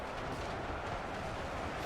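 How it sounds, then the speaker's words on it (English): Dense, continuous rumble of explosions and artillery fire in the UEBS2 battle simulator game, heavy booms blending into one loud roar. "there's so many explosions, but they need that AoE damage"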